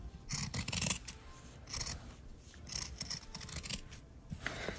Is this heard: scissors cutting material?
yes